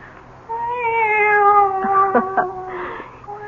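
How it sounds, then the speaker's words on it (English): A single cat gives a long, loud, drawn-out meow with a rising then wavering tone, followed by a couple of shorter breaks, close and alone in a quiet indoor radio-drama setting. "It's the cat."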